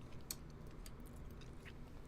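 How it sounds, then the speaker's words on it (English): Faint, close chewing of Jack Link's beef jerky, with soft irregular crunches and wet bites over a low background rumble. "you hate the sound of me chewing this food"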